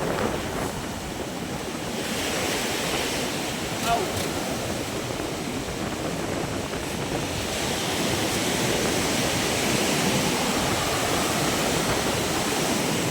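Strong sea waves surge over and around a wrecked beach hut, a continuous loud roar of churning water with heavy wind noise on the microphone, close and unbroken throughout.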